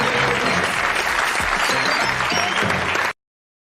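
A studio audience at a comedy show bursts into loud, sustained applause, a thick continuous roar of clapping that cuts off abruptly into silence.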